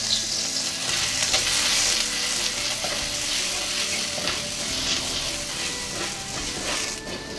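Slices of ginger and garlic stir-fry in a hot pan, giving a loud, steady sizzle with occasional stirring scrapes throughout and no talking.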